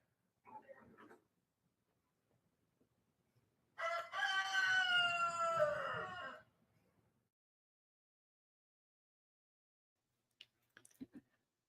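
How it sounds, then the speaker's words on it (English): A rooster crows once in the background, a loud drawn-out cock-a-doodle-doo lasting over two seconds, with a shorter faint call before it and scattered soft noises afterward. "Did you hear my rooster in the back?"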